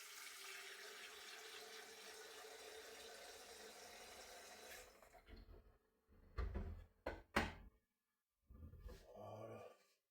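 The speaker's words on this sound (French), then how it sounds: "Je vais mettre de l'eau dans la carafe." Water is poured into a carafe, a steady splashing trickle for about five seconds, followed by clinks and knocks of glass being handled in a quiet room.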